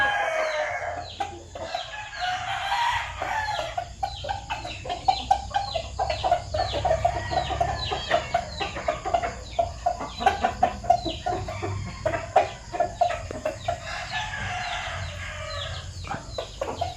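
A Red Game Farm sweater-breed gamefowl rooster clucks and crows repeatedly at close range, with sharp calls and bursts of crowing over a steady low farmyard hum, no voices present.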